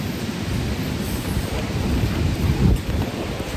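Typhoon wind gusting in Taiwan, a close, rough roar of wind buffeting the microphone with a rushing, storm-like low rumble that swells slightly toward the end.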